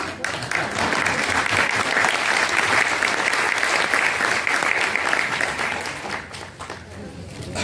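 An audience at a women's conference breaks into sustained, loud applause, many hands clapping together steadily before it thins slightly near the end.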